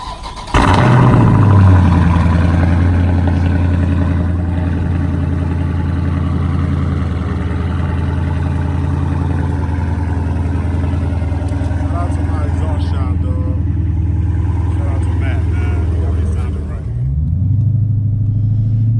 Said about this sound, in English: I can't start the video without giving y'all that cold start, man.